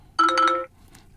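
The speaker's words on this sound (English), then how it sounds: "That's my ringtone right there." A short, bright electronic ringtone phrase from an Asus ROG Phone 9 Pro plays once, loud and clear, then cuts off into near silence.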